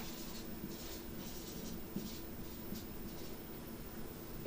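A pen scratches on paper in short rhythmic strokes while someone writes out a maths solution. The scratching is soft and close over a steady low background hum.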